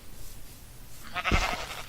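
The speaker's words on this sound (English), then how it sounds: "There's some sheep way over there." A Minecraft sheep bleats once in a short burst, fairly faint and distant over a quiet game background.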